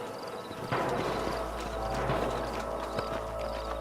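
Horse hooves clip-clop in a steady walking rhythm in a Red Dead Redemption canyon scene, fairly close and moderately loud over a low background hum, with faint voices in places.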